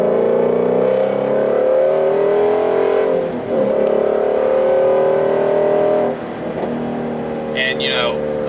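A Ford Mustang GT350R with a manual gearbox and an 8,250 rpm redline revs steadily and loudly, its engine note rising and dipping between shifts, while a voice speaks over it.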